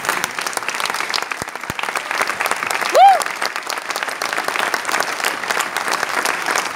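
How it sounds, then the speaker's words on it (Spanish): Audience applause at a formal event, steady dense clapping from a crowd that fills the whole stretch at even strength, with a short whistle-like tone rising briefly in the middle. "voy a pedir un fuerte aplauso"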